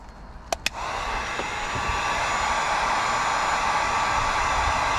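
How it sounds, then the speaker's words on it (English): A heat gun blowing hot air while a 12 volt socket is installed in a Tesla Model Y: two sharp clicks, then a steady loud whooshing roar that holds to the end. "You grab your heat gun."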